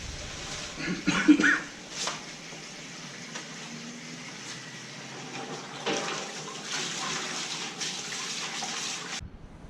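Water gushes from a hose or tap into a barrel set up for soaking straw with lime, a splashing rush that surges early then settles into a steady pour, with some rustling handling noise close by.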